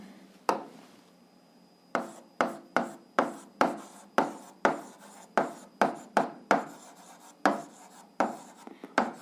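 Writing by hand on paper during an algebra lesson, a series of sharp, evenly spaced strokes and taps close by, about fifteen in succession after a brief quiet start.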